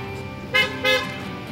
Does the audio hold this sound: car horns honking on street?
yes